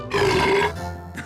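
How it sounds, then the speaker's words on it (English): A cartoon monster lets out a loud, drawn-out burp lasting about a second, which fades into a lower rumble. A brief extra croak comes at the end. "How to burp really, really loud."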